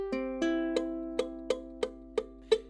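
A ukulele chord strummed eight times in an even beat, each stroke a dull, muted thump, quiet and close.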